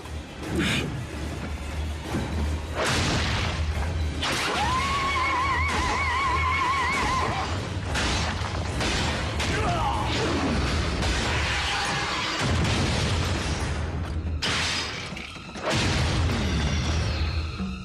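A grenade blast in a Transformers Prime cartoon battle between Autobots and Decepticons: a loud, dense stretch of booms, crashes and whooshing debris, with several heavy impacts piling up over a busy soundtrack.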